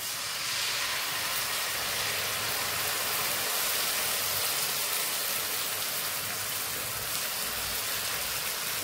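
A paste of tomato, green chili, ginger and garlic fries in hot oil in a pan, giving a loud, steady broadband hiss and crackle that holds unbroken from start to finish with no talk.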